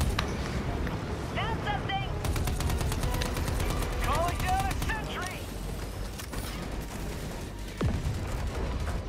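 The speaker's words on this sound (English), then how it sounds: "Sentry inbound, watch out the auto cannon." An autocannon sentry in the video game Helldivers 2 fires rapid, repeated heavy bursts among mechanical clanks and other battle noise, while players talk over the firing.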